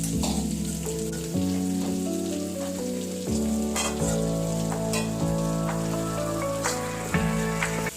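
Meat coated in ground spice paste fries in a pan with a dense, rain-like sizzle and occasional stirring knocks, while a steady tonal melody plays underneath; no one speaks.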